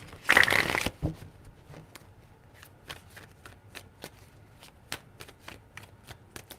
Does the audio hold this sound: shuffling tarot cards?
yes